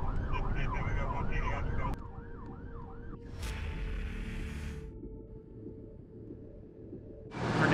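An ambulance siren wails in a looping up-and-down pattern for about two seconds, then a fainter siren tone continues under traffic rumble and background noise.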